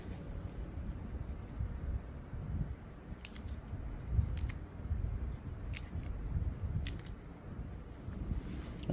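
Material for worm composting is ripped into bite-size pieces by hand, giving soft repeated tearing and crinkling sounds at irregular intervals close by, fairly quiet against low background rumble.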